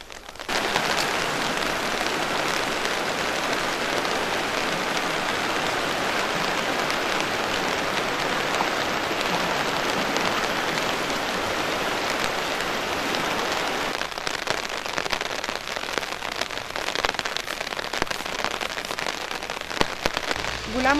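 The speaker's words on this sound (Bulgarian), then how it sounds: "Дъждът продължава да вали, за съжаление, и положението тук става все по-критично." Heavy rain pours down steadily during flooding, a dense unbroken hiss of drops hitting surfaces up close for the whole stretch.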